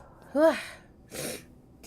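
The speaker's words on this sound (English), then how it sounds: "Oh, I have to sneeze." A single sharp sneeze bursts out, followed a moment later by a shorter breathy exhale or second sneeze.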